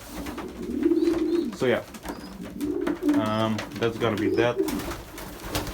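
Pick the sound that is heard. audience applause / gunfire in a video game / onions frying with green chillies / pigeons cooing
pigeons cooing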